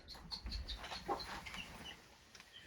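Chickens cluck softly in a quiet outdoor coop, with a few short calls scattered over faint background noise.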